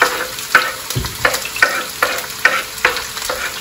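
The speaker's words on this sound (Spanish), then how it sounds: "Hemos echado aceite en nuestra sartén" Onion and garlic frying in oil in a pan, a loud close sizzle with rhythmic stirring scrapes repeating roughly every half second.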